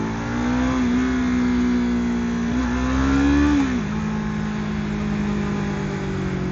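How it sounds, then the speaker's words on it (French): A 2023 Yamaha YZF R3 motorcycle with its stock exhaust, heard close and fairly loud as a steady droning engine note. The pitch rises briefly, then drops back to a constant hum. "J'espère que vous entendrez un peu le moteur."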